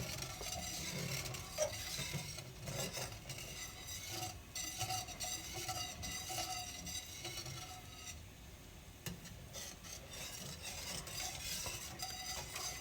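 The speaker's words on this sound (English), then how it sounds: "And we're gonna continue mixing it and let it thicken up" Continuous scraping and bubbling as General Tso's sauce is stirred in a pan while it thickens, a spoon working steadily through a soft sizzle, close and unbroken, with no talking.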